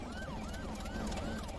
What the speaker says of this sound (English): police car coming